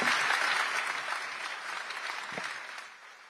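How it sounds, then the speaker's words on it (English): A conference audience applauds the panel speakers at an international finance leaders investment summit, a steady wash of many hands clapping that fades slightly toward the end. "Let us give a round of applause to our speakers."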